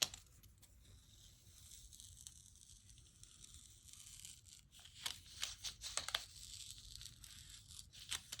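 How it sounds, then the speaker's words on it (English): Paper tears close by during craft planner work, heard as faint, soft rips and crackly bursts that cluster more densely in the second half against a quiet background. "And it's tearing the paper a little bit."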